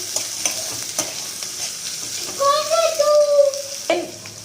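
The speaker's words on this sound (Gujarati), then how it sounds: "બધી જ વસ્તુ આપણે 1-2 મિનિટ માટે હલાવીશું" Peas and spinach rice ingredients sizzle in a pan while a spoon stirs them, with scraping strokes over steady frying hiss, close by; a brief high tonal sound rises midway.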